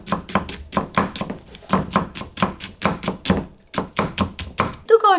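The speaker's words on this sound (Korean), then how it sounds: "찬바람에 파 총총총총 썰어주세요" A knife chops green onions on a board in a quick, even rhythm of about twenty crisp, close taps, with short pauses between bursts and a brief voice-like sound at the very end.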